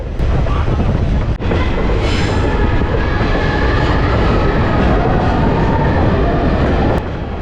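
A train on the Kollam–Tenkasi line through tunnels rumbles steadily and loudly from inside, with a continuous roar, rattling, and faint squeals throughout.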